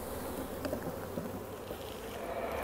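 Honey bees buzz steadily around a hive frame during an outdoor hive inspection, a dense continuous drone close by with no speech.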